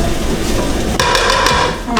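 Garlic being stirred in a hot pan on the stove, a spoon scraping and clinking against the metal in several quick strokes over a steady background sizzle and kitchen hum.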